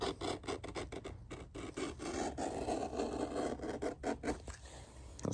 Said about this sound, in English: take the knife. I'm just gonna trim the rest of it off